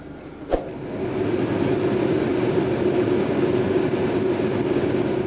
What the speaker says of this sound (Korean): 히터 바람도 굉장히 잘 나오고 있고요